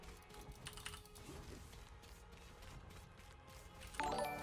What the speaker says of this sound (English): Let me know if you can hear weird things like my keyboard and mouse clacking in